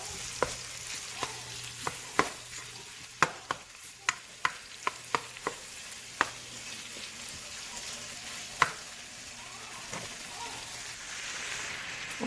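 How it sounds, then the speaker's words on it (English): A spoon stirring a pot of chicken alfredo, with scattered light scrapes and taps over a soft steady simmering hiss, fairly quiet and close. "I'm going to go ahead and give this a good stir"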